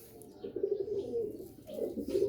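A round-feathered pigeon coos nearby in low, throaty rolling phrases, two drawn-out bouts with a short dip between them, heard alone without talk.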